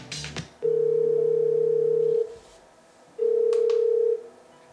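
A Bluetooth speaker rings with an incoming phone call, two steady electronic tone bursts separated by a short pause, loud and close.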